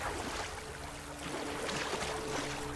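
Water from a video game water source flows along a long man-made channel as a faint, steady broadband wash, soft and continuous throughout, with no talk.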